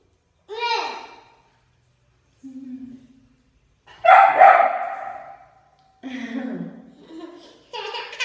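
A dog barks in short bursts, a few separate yaps spaced across the stretch, close and fairly loud, with a child's babbling and adult voices mixed in between.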